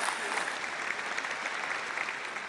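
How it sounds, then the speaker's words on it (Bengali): Studio audience at a Bengali family game show claps steadily, a dense even patter of applause sustained without a break. "আমরা একটা জোরে হাততালি তোমার জন্য"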